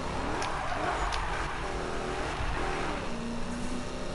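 A Ford Mustang in Need for Speed 2015 drones along with a steady mid-level engine note, and faint tire and road noise sits beneath it.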